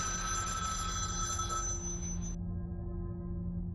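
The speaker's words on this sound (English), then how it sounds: "Angel's phone rings off the hook." A telephone rings in a scene from the 1987 film Angel Heart: a steady electronic ringing tone over a dense, constant background hum, cutting off partway through while the low drone continues.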